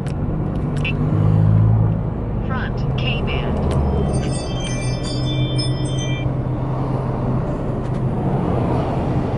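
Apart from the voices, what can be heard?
street traffic passing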